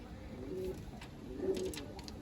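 Pigeons offered for sale coo faintly in low, drawn-out calls, two soft phrases over a murky background of ambient noise.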